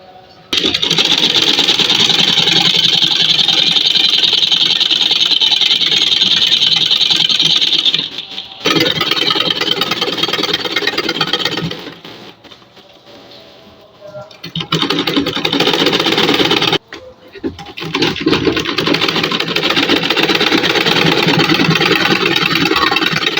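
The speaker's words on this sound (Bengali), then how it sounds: "এখন রাবারের উপর দিয়ে কাপড় টেনে টেনে আরেকটি সেলাই করতে হবে।" A sewing machine stitches fabric over elastic for a salwar waistband, loud and close, running in long continuous bursts with a couple of brief stops and restarts.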